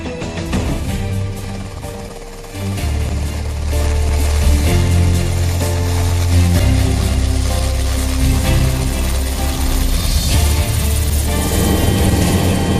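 A Kamov Ka-226T helicopter flies past. Its loud, steady rotor and engine drone fills the whole span, rising in strength after the first few seconds. No voices are heard.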